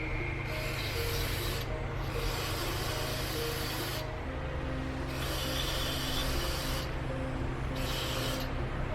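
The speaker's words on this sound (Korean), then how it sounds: "스로틀 바디의 카본때도 닦아줍니다." A rag scrubs carbon deposits from the throttle body of a 2009 Porsche 911 Carrera S (997.2), making close, soft rubbing strokes in a few separate bursts with short gaps, over a faint steady background hum.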